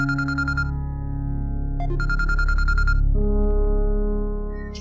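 A phone ringtone plays in a domestic drama scene, a melodic electronic tune in two bursts separated by a short gap, followed by a lower sustained tone, close and clear with no talk.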